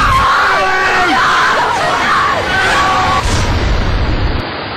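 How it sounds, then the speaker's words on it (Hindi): People screaming and yelling as a ladder breaks in rushing monsoon floodwater, loud overlapping cries and shouts continuing over a heavy roar of water. "सीढ़ी के टूटते ही मौके पर चीख पुकार मच गई।"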